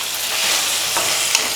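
Mushrooms, peas and mixed vegetables sauté in a hot pan for a gravy and sizzle steadily and close. A stirring utensil scrapes across the pan once or twice, with no speech.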